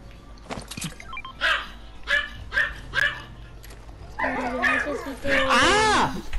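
Several dogs bark in short bursts, with louder, harmonic yelps and whines building near the end, mixed with voices talking nearby.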